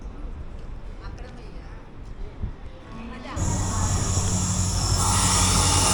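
A 16511 Kannur Express train pulls into a station with a low rumble, then a louder wash of rolling noise and a high sustained whine as it draws close, with people speaking nearby.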